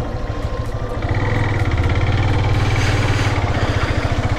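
A motorcycle engine chugs steadily as the bike rides slowly, at about 12 km/h, over a rough road under construction on a dangerous route in Ilam. The low pulsing throb is close and loud and rises slightly after the first second, with no talking.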